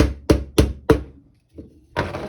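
A hammer lightly taps an airsoft gun barrel: four sharp, evenly spaced knocks close by, then a softer shuffle and a louder clatter at the end.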